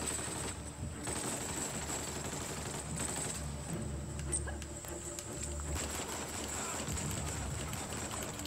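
Sustained rapid gunfire from Uncharted: The Lost Legacy, with dense bursts of shots over a constant roar of game noise and a steady high whine running through the whole clip.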